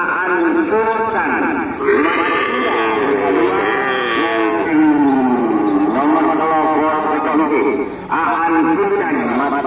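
Cattle at a Karapan Sapi bull race on Sapudi Island, with loud crowd noise and a man announcing over a loudspeaker throughout, and a low bovine bellow mixed in.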